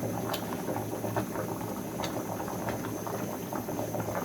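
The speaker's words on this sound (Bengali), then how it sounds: "একটু গরম পানি দেবো, দিয়ে গরম বসাবো" Water heats in a pot with dried fish on a home kitchen stove, bubbling and simmering continuously with light rattling, fairly close but soft, with no talking.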